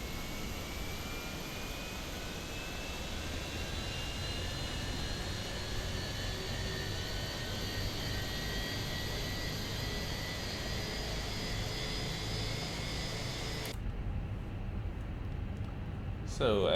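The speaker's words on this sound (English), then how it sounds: "Engine 1 start." Engine 1 of an Airbus A321 starting in a flight simulator: a faint, rising spool-up whine over steady airy hiss that continues, then cuts off abruptly near the end.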